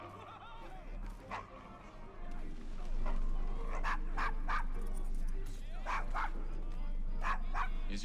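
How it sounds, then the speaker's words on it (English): A dog barks in Assassin's Creed Syndicate on a London street, a series of fairly faint yaps and whimpers heard over a steady low hum and city ambience. "Is your dog quite all right?"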